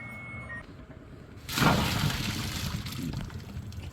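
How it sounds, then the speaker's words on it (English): Cleaned, deveined raw shrimp with tails on are dropped into a pot of rolling boiling water, bringing a sudden splashy surge and then a steady bubbling roil up close. "We're at a good rolling boil. Now the raw shrimp is going in."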